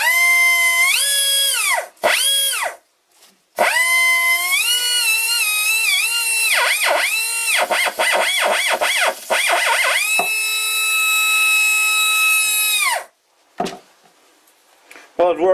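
A cheap Chinese air grinder runs with a loud, high whine that rises and falls in pitch as it slows and speeds up. It cuts out briefly a few times, then stops near the end.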